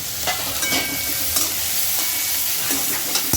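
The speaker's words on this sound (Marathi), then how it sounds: "जरा तेलामध्ये थोडेसे फ्राय करून घ्यावे लागते" Potatoes fry in hot oil for sabudana khichdi, a steady close sizzle broken by soft scraping stirs of a spoon in the pan.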